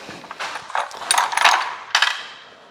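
A wrench loosens bolts during the teardown of a 351 Windsor engine, giving close, bright metallic ratcheting clicks and scrapes in several uneven bursts, with no talking.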